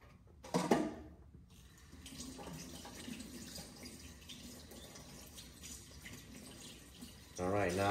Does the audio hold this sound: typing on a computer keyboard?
no